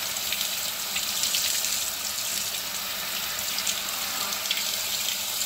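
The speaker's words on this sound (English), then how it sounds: "So just use cold running water under the tap, not high pressure" Cold water streams steadily from a kitchen tap at low pressure, rinsing a fine-mesh dishwasher filter; a constant broadband hiss and splash runs unbroken throughout, with no talking.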